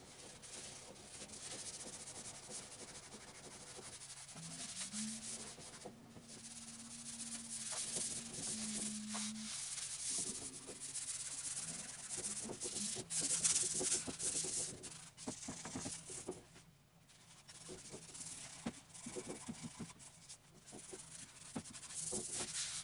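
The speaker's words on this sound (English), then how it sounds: "I'm going to go ahead and hand sand, just lightly hand sand, just to make everything smooth" Hand sandpaper rubs lightly over a solid maple king size bed, a quiet steady scratching hiss that continues in uneven strokes with brief pauses.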